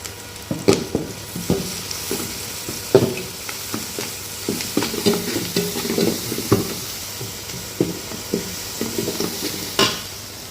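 Crushed ginger and garlic frying with onions in a pan, a steady sizzle broken by frequent, rhythmic scrapes and knocks of a spoon stirring close by.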